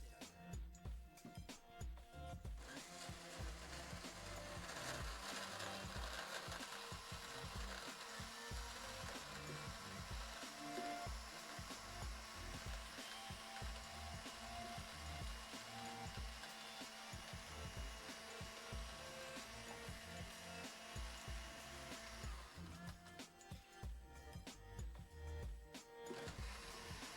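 A blender mixes drinks at a milk bar event, whirring loudly and continuously with a rough, rattling grind for about twenty seconds.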